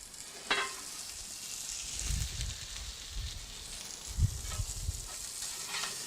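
A burger sizzling in a hot pan pulled from a pizza oven, a quiet steady hiss with low rumbling bursts and a faint clank, fairly subdued and without speech.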